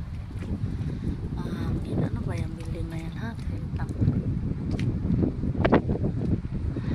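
Gusty wind at the Manar Tabat Promenade buffets the microphone in a low, steady rumble while a person keeps talking over it.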